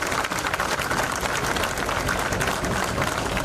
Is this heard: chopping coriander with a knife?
no